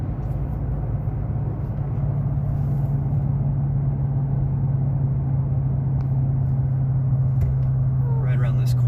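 A car drives the hour-long road from the Arizona desert up toward Prescott, producing a loud, steady cabin drone of engine and road rumble throughout, with no change in pace.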